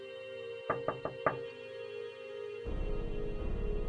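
Four sharp knocks on a window in quick succession, close and distinct over a low hum, followed by a deeper droning tone.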